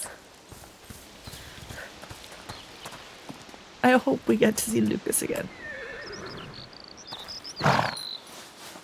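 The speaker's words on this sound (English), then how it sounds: "Horses! Getting there." Horses in the video game A Plague Tale: Requiem whinny loudly near the middle, with clip-clop hooves and a second neigh later, while a person talks over the scene.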